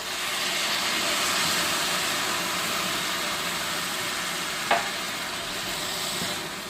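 Stuffed peppers sizzle in a frying pan with a steady, even hiss of hot oil close by, joined by one brief clack near the end.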